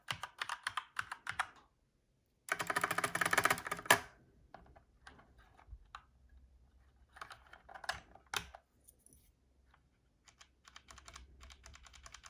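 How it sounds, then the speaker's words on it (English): Typing on a Corsair K70 Rapid Fire keyboard with Cherry MX Red switches, heard as close, crisp bursts of rapid keystrokes broken by short pauses and a few isolated heavier key presses. "So this is the K70N Rapid Fire. Let's have a listen and see what we think."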